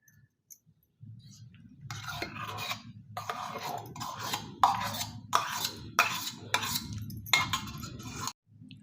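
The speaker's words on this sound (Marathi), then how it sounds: "ह्या पिठामध्ये आता आंब्याची प्युरी घालूयात" Mango puree being mixed into a flour and grated coconut batter for mango sandan, heard as repeated rhythmic rasping strokes of a spoon working through thick batter in a bowl, close and steady with a low rumble beneath.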